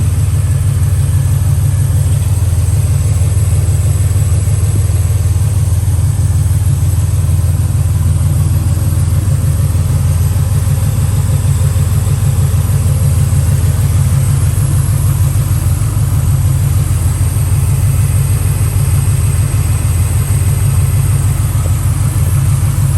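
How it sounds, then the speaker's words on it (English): A 1968 Chevrolet Camaro with headers, aluminum radiator and a healthy-sounding engine idles steadily and loudly close by, a deep continuous low rumble with no talk over it. "Real nice engine. Running really good."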